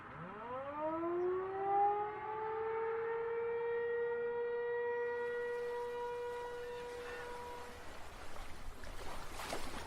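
Siren sound effect rising in pitch into a long steady wail, then fading into a noisy wash near the end, heard alone and at moderate level.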